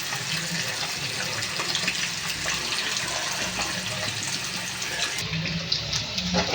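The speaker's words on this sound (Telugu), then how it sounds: "దీంట్లో అయితే వాటర్ వేసుకుని బంగాళదుంపలు ఉడికే వరకు ఉడకనిచ్చుకుందాం" Water is poured into a cooking pan holding fried potatoes already seasoned with salt, chili and turmeric, a steady splashing pour running for several seconds, moderately close.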